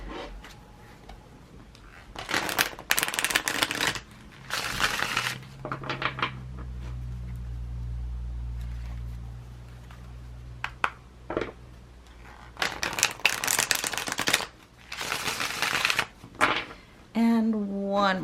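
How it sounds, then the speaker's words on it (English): Tarot cards are shuffled and dropped in several bursts of riffling and flapping, with quieter gaps and a low hum between them. "let's shuffle the tarot together as I drop all of the cards"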